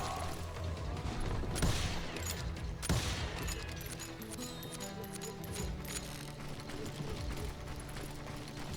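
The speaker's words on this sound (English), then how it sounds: "They're shooting in the street!" Gunfire crackles through a street shootout in the Call of Juarez video game, with sharp shots at about 1.7 and 2.9 seconds over a steady, dense bed of battle noise and clattering movement.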